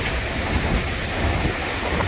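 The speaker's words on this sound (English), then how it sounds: "This wind is incredible." Strong wind roars steadily and close across the open prairie of Nebraska and Iowa, a continuous rushing buffet with gusts swelling and easing but never letting up.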